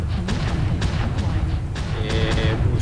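Weapons fire pounds a player's mech in MechWarrior Online on a forest colony map: a dense, loud run of booms and thuds over a rumbling low drone, with a brief metallic ringing near the end.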